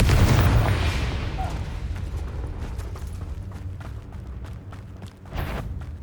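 A booming explosion from a blasting spell in a wizarding video game opens loud and rumbles away. Softer mechanical clanks and pops follow, with a second smaller burst near the end.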